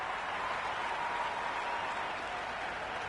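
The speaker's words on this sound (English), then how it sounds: "That's a hat-trick, and the crowd are going wild" Crowd cheering and applauding after a hat-trick wicket in the Cricket 26 video game, a steady, dense wash of clapping and roar that holds at an even level throughout, with no clear voices on top.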